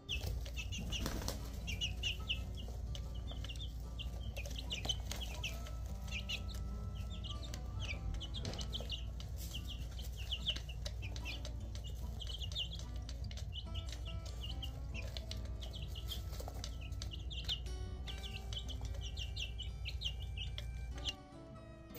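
Chickens cluck and chatter continuously over a steady low hum, with occasional wing flaps and a busy coop-like din throughout.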